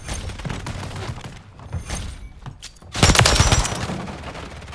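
Pulemyot 762 machine gun fire in Call of Duty Modern Warfare 3 multiplayer on the Stash House map comes in rapid bursts, with scattered shots early, a brief lull, then a heavy, sustained close-range burst.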